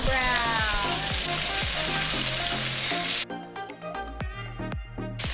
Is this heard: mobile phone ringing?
no